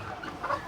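A hen with her chicks gives a short, soft cluck, faint and brief against quiet outdoor ambience.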